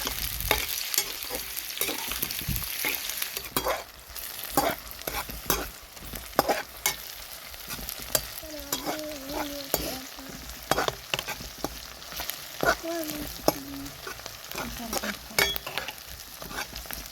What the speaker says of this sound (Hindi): अभी ये जो तेल बचा है इसमें हम फ्राई कर लेंगे प्याज।